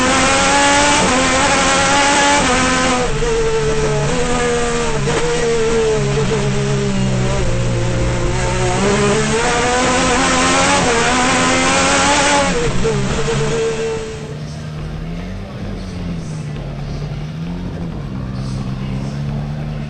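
Two-wheel-drive rally race car at a Caribbean rally event at Bushy Park, Barbados, its engine revving loud and close, rising and falling through gears with a steady harsh drone before fading slightly toward the end.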